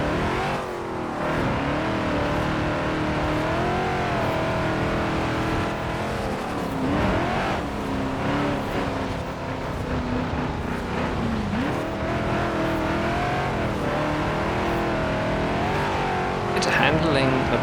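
A 1973 Ford XB Falcon GT in Forza Horizon 4 revs hard, its loud engine note repeatedly climbing and dropping through the gears over a long stretch, with someone talking over it.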